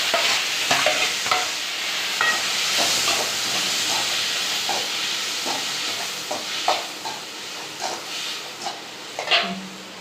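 Tomatoes and onions frying in a pan while ragi semiya is cooked, a steady loud sizzle and hiss with occasional stirring scrapes and pops, close up.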